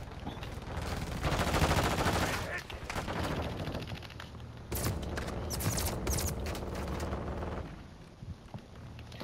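Rapid machine gun bursts rattle in Call of Duty: Modern Warfare II, loud and sustained with several bursts and short gaps, mixed with surrounding battle noise.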